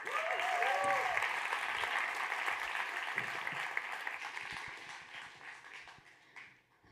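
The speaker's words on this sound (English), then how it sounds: "please welcome them to the stage with a loud round of applause." Applause from an audience greeting a demo-day startup team taking the stage, dense clapping with a few whoops, steady at first and thinning out toward the end.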